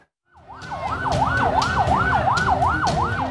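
Ambulance siren wailing in a steady rising and falling cycle at a road accident scene in Medan where a truck struck a motorcycle taxi rider, loud and close over rumbling traffic, with no talk.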